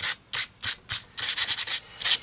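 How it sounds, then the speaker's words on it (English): Sandpaper is rubbed over crinkled paper while distressing a mixed media Valentine artist trading card. Four separate loud, close strokes come first, then a quicker run of continuous scratchy rubbing. "And then take a piece of sandpaper"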